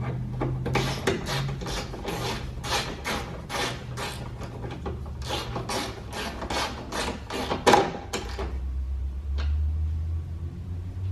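Window glass on a 2007-2013 Honda Fit slides down inside the door toward the regulator, making a rapid series of rough scraping and rubbing strokes, close and fairly loud, then a low hum.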